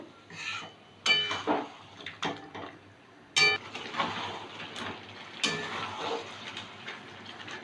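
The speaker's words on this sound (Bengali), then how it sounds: "এবার খুব ভালো করে খানিকক্ষণ ধরে মাংসটা কষাবো।" Goat meat being stir-fried in a pot with red chilli and Kashmiri chilli powder: a spoon scrapes and clanks against the pot in several sharp strokes, with a soft sizzle between them.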